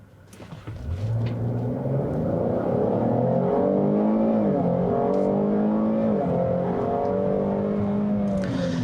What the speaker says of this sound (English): if I come to a stop here, the engine shuts off. Lift off the brake, the engine will restart.